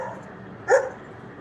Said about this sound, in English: My dog barks loudly.